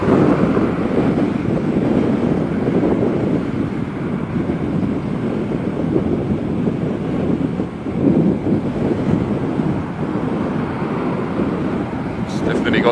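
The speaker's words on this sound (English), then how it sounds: "the only thing you can hear is the wind" Steady, loud wind buffeting the microphone while riding a Macrais Z8X electric bike, a continuous low roar through the whole stretch with slight swells and no other sounds standing out.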